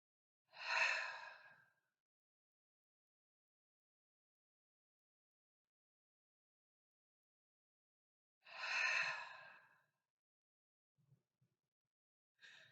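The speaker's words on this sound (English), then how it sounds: "Breathing in through the nose." Two slow, deep breaths drawn in through the nose several seconds apart, each a soft airy rush lasting about a second, close and alone in a quiet room during a desk-stretch breathing routine.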